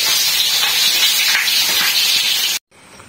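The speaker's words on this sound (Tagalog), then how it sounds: "Si Katraps nag-spray na ng pandam." A steady, loud broadband hiss of a spray being applied at a rural hut site, running continuously for about two and a half seconds before cutting off abruptly into near silence.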